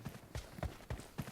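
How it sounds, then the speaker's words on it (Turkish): Footsteps in PUBG Mobile's Metro Royale mode: five evenly spaced, thudding steps at a steady running pace, fairly close and moderately loud, with no talk over them. "Ayak sesi."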